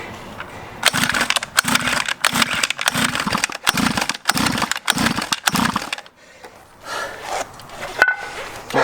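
A cheap small motorbike engine cranked with the choke on: rapid repeated bursts of rough, chugging engine noise in a steady rhythm for several seconds, then a quieter, irregular stretch, loud and close with no talking.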